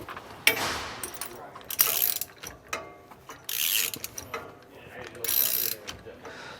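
Ratchet wrench tightening a bolt on a steering stabilizer bracket of a 2005 Winnebago Adventurer motorhome during a Roadmaster Exact Center install, heard as several bursts of quick clicking with metallic clatter, close and moderately loud, with no talk.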